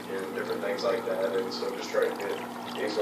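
Motor hum from an Aqueon QuietFlow 55/75 aquarium power filter, a steady close drone with water splashing and trickling over it throughout.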